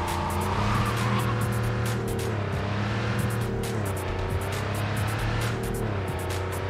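A car driven in Cyberpunk 2077 roars with a steady engine drone whose pitch sweeps up and down as it shifts and turns, with bursts of tire squeal over the top, loud and close throughout.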